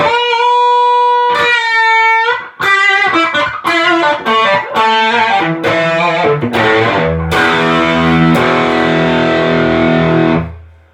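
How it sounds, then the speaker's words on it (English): Electric guitar run through a super distortion effect, loud and close, playing a sequence of sustained chords and choppy stabs with a harsh, fuzzy tone that ends in a ringing chord. "Man, the super distortion is mean. Like, it's ugly in an awesome way."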